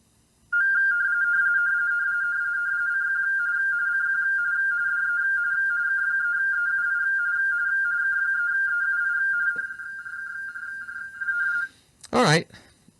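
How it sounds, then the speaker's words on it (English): An amateur radio digital mode sends a steady tone near 1500 Hz, loud and unbroken for about nine seconds with a faint pulsing texture, then stops; a short burst of talk comes after. "You heard like dee dee dee dee dee dee dee dee, kind of an annoying sound at a pitch at about 1500 hertz"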